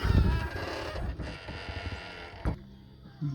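The rear liftgate latch mechanism of a Jeep clicks and creaks as it is worked open, ending in a sharp metallic clack, with faint background noise and no talk.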